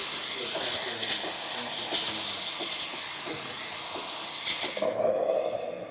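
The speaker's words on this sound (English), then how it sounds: "Excellent steam coming out of the machine." A DeLonghi Magnifica espresso machine's steam wand gives a loud, steady hiss of steam rushing out for several seconds, then cuts off abruptly, leaving a softer, fading hiss.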